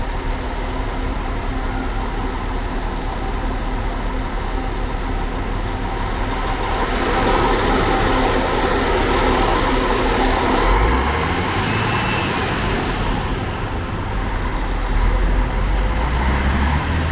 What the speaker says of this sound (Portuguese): Encostando o ônibus da Autoviação Catarinense